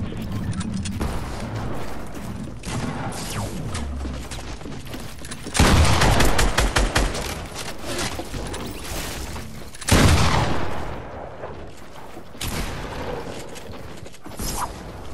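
Video game gunfire in a battle royale match: bursts of shots and loud booming volleys recur, with mechanical clicks and rattles between them.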